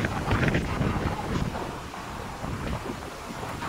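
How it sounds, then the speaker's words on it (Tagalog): Strong gusting wind roars into the microphone, loud and continuous, rising and falling over a broad rushing noise, with no talk. "Oh my God! Ang hangin."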